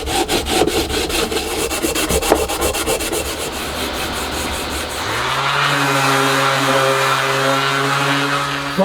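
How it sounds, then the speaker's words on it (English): Sandpaper rubs back and forth on a handmade wooden clapper in a small workshop shed, with rapid, even scratching strokes up close; partway through, a steady machine hum starts and continues underneath. "run a very light bit of sandpaper around there"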